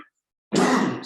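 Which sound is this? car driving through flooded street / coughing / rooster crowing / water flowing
coughing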